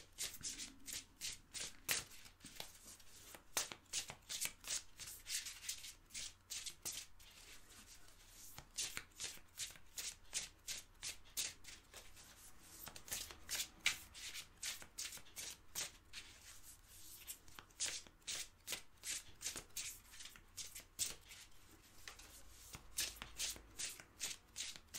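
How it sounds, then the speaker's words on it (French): Witch runes shuffled for a divination draw, a dense and steady run of soft clicking and rubbing that keeps going for the whole stretch, close by and with no voices. "on va se faire un petit tirage avec les runes sorcières"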